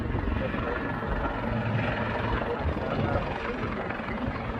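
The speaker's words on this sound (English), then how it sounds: "making sure the helicopter is stable" Helicopter flying at the Wales Air Show in Swansea, a steady broad rotor and engine roar held at even loudness throughout, with crowd noise mixed in.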